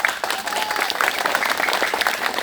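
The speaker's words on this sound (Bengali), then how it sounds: "হাততালি দেন সবাই" A crowd claps steadily at a gathering where two temple committees settle a long dispute, the applause dense and continuous throughout with no talk over it.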